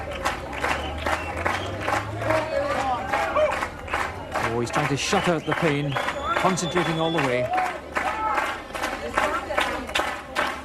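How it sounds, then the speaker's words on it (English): A big crowd at a 1989 World's Strongest Man event cheers and claps steadily throughout, the noisy applause running continuously under a commentator's voice. "Great encouragement from the big crowd"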